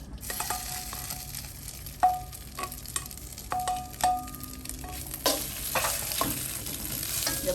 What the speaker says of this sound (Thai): กระทะร้อนค่ะ เอาข้าวลงผัดค่ะ